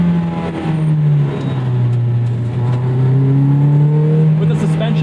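A 2001 Toyota MR2 Spyder with a swapped 2ZZ engine pulls hard, its engine note climbing in pitch through each gear and dropping briefly at every shift, loud and close throughout.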